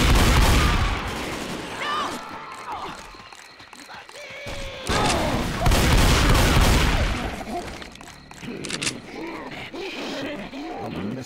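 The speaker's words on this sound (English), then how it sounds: "Throwing a pipe bomb!" Left 4 Dead 2 gameplay with bursts of gunfire and a pipe bomb blast, loud and chaotic, with shouted voices over the shooting.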